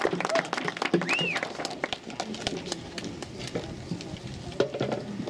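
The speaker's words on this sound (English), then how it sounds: "That's a big round of applause for yourself." A brief round of audience clapping at a protest rally event, scattered and uneven, mixed with crowd stir and a voice speaking over it.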